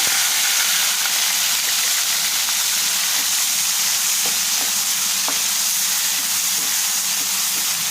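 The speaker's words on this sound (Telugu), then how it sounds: "వేసి పచ్చి వాసన పోయేంత వరకు ఫ్రై చేసుకోవాలండి" Ground tomato and dried red chili paste fries with curry leaves in a pan, giving a steady, even sizzle and hiss with a few small pops, close and alone.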